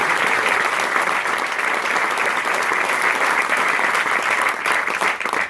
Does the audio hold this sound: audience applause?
yes